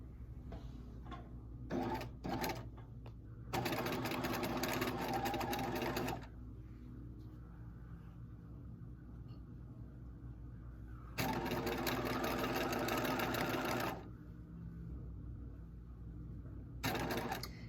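A sewing machine stitching down a seam finish, running in loud steady bursts of rapid mechanical stitching separated by quiet pauses, close and alone.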